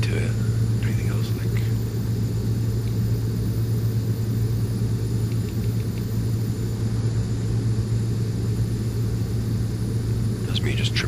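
The twin turboprop engines of a Beechcraft B200 King Air run at full throttle in flight, making a loud, constant cockpit drone and rumble with a strong steady hum and faint voices underneath.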